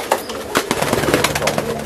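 Pigeons in a colony loft coo close by, with soft repeated throaty calls layered over rustling and background noise.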